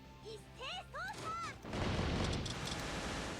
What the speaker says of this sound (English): The gunshots are crazy.